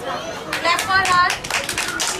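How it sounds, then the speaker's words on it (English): A class of children claps for a classmate, a few scattered bursts of hand claps mixed with young voices and chatter in a small room. "Clap for her."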